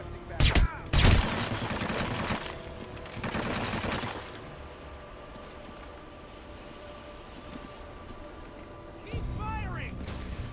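Bursts of gunfire in the Hitman: Absolution game, loud volleys in the first few seconds and again near four seconds, then quieter ambience with a final burst near the end.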